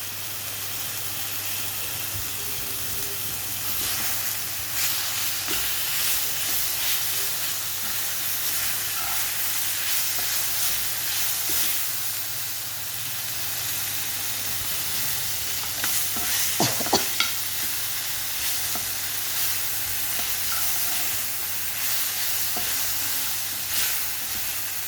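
Chicken mince frying in a pan for spring roll filling, with a steady close sizzle and hiss that runs the whole time and occasional scraping stirs, plus a few sharper clinks near the middle.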